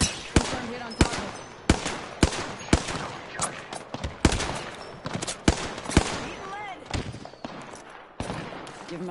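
Video game gunfire: sharp shots crack out repeatedly in irregular bursts and single shots, close and loud, while a player talks over them.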